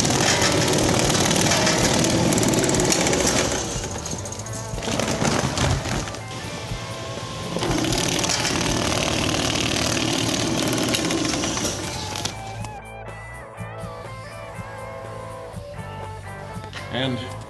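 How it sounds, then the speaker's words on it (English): Bag sewing line with its conveyor and sewing head running, a loud continuous mechanical whir and rattle that surges and eases over time, with a person talking over the machinery. "step on the foot pedal. That starts the conveyor."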